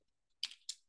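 A couple of sharp keyboard keystrokes, close and fairly quiet, with no voice, from typing on a computer keyboard while entering spreadsheet code.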